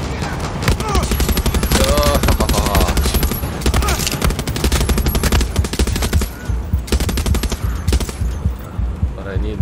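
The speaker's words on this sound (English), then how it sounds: "have some machine gun." Dense, sustained machine gun fire in the Far Cry 6 video game, rapid loud bursts running almost nonstop with faint voices mixed in.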